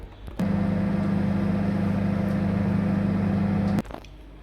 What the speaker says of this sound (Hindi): 1 मिनट के लिए हम इसको माइक्रोवेव करेंगे।